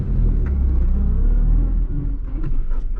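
A 1991 Honda Civic with a weird noise on deceleration: steady loud low engine rumble and drivetrain drone from inside the car, with a few faint higher whines and clicks near the end.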